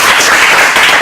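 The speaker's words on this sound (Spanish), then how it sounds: "vamos a dar un último aplauso a Francia" A short, loud burst of clapping from a crowd at a workshop meeting, dense and steady without a break for just over a second.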